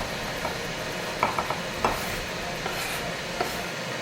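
Chimichurri paste is stirred with kosher salt, scraping back and forth in a low, steady, close rustle, with a few light clicks on top.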